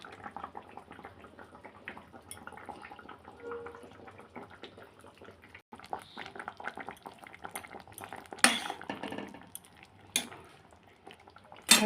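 Rohu fish curry with potato, papaya and fried eggplant simmering in a pot, a soft steady bubbling with scattered clinks of utensils against metal and a few louder scrapes near the end, no voices.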